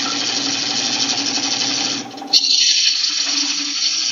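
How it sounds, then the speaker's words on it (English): Bowl gouge cutting into a wood bowl blank spinning on a lathe, a loud continuous rough scraping whir that briefly dips, then resumes with a sharper bite after a small catch. "We're going to remove most of the material that we need to with our bowl gouge."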